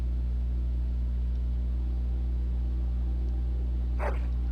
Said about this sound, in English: No, I wanted to pet the doggy.